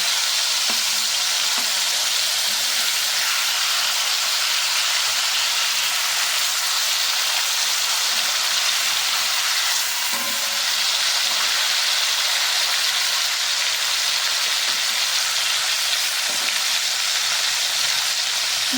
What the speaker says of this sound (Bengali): মাছগুলো উল্টে পাল্টে ভালো করে ভেজে নেবেন